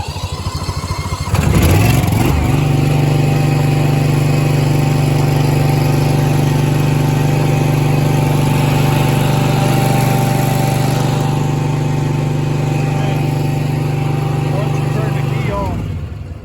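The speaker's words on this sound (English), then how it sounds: "Takes a little while for the fuel solenoid on the carb to close off and run out the rest of the fuel." A small lawn mower engine keeps running steadily on its carburettor while the remaining fuel burns off after the fuel solenoid closes. It starts with a surge, holds a loud, even drone, then winds down near the end.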